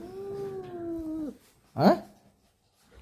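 A cat gives a long drawn-out meow, then after a pause a shorter, sharper yowl, close and fairly clear in a quiet room.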